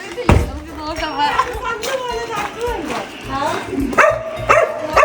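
Jimmy, a small house puppy, lets out several short yips and barks close by, mixed in with people talking over it.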